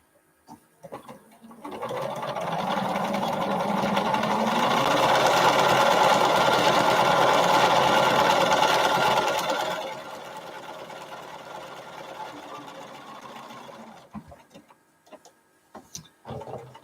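A sewing machine runs steadily for several seconds, stitching quilt fabric pieces together, its motor humming loudly and close, then slowing to a softer run before stopping.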